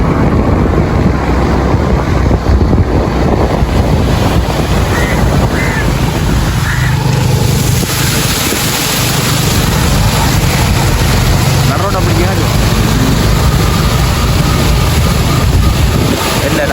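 A vehicle creeps slowly through floodwater on a road in Jaffna during a storm. Steady, loud rushing and sloshing water runs throughout, mixed with wind buffeting and faint voices.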